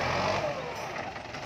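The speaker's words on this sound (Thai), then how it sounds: "คุณตา วัย 60 กว่ากว่าครับขับรถไถเอ็ม 9540 ครับ" A large M9540 tractor, driven by an elderly man while knocking down trees in a corn field, runs with a steady mid-pitched engine drone at moderate distance, unbroken and alone.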